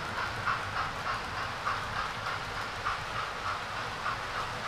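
A small model train runs steadily along its track, a continuous whirring hum with a regular light clicking rhythm, fairly close.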